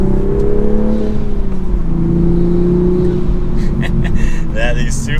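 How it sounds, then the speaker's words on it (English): Manual Toyota Supra fitted with an MST intake, engine note rising and falling with a droning whir from the intake, heard from inside the car under faint background chatter. "But non-sport mode, you still get all the cool intake noises"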